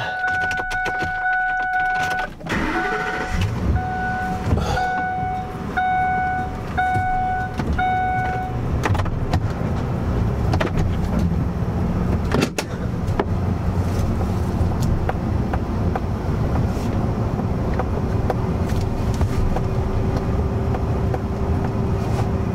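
A truck moves slowly through mud during steady rain on a muddy construction site where a concrete foundation is being poured. Rain and engine rumble stay broadband and continuous throughout, with a short run of electronic chimes near the start.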